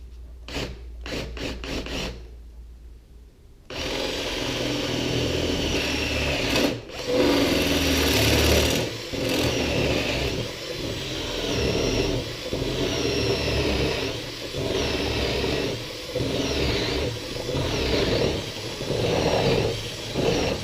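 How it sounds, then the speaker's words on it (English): Drill with a 3/4 inch Forstner bit boring straight through a workpiece for a flip-top tool cart. A few sharp clicks come first, then a long, steady, grinding drill whine with slight fluctuations. "use a 3/4 Forstner bit to drill that all the way through"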